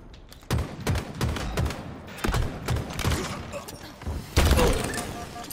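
Gunfire in a Halo Infinite ranked match comes as repeated sharp, punchy shots in quick clusters, including sniper rifle fire, with a heavier blast near the end under the continuous noise of the fight.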